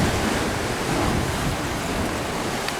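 Ocean waves surge and splash through a coastal sea arch at Point Arena, a loud, continuous roaring wash of water with some wind noise and no talking.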